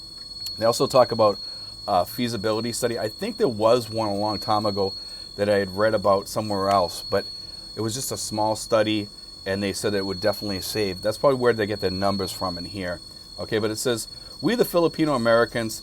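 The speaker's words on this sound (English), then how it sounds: "It's a cicada, and it's really, really loud because it's really close to us today." A cicada close by keeps up a loud, high, steady electric buzz throughout while a man reads aloud and talks over it.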